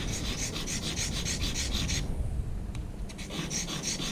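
Black opal carved and polished by hand on whetstones, a close, rhythmic scraping and grinding of repeated strokes that pauses briefly and then resumes, with no talk.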